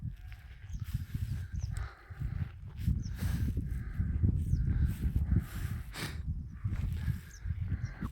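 Well-fed sheep bleat in a flock out in village pastureland during spring, their calls faint and distant, repeating over a steady rumble of wind.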